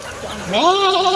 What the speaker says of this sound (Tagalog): Ayun, oh, mga kambing oh